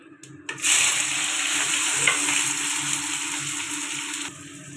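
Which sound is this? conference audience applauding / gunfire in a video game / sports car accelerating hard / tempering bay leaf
tempering bay leaf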